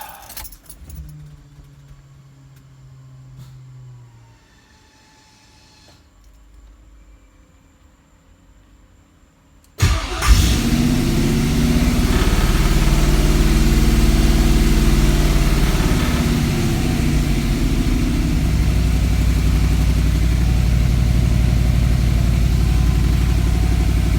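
A car engine fitted with Holley Sniper fuel injection cranks and fires up after keys jingle in the ignition, then settles into a loud, steady idle that runs on close by.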